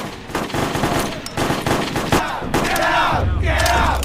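Rapid bursts of gunfire crack over a shouting crowd, loud and chaotic, like a battle scene in a film.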